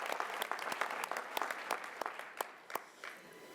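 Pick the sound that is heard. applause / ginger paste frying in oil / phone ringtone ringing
applause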